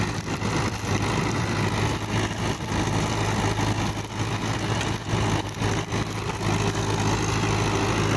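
A Mahindra 475 DI diesel tractor engine idles steadily and close by, a deep continuous rumble with a low throb that stays constant throughout.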